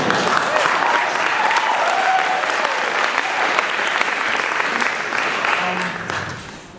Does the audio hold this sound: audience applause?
yes